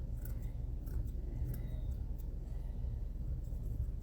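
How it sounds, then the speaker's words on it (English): Shears snip repeatedly at the flyaways on a braided wig, making quick, faint metallic clicks over a low steady background hum, with no voices. "So I'll just take my shears and then I cut the flyaways."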